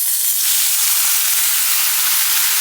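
Broth added to rice pilaf in a pan after the rice is stirred until translucent, giving a loud, steady hiss and sizzle of liquid hitting the hot pan that continues throughout.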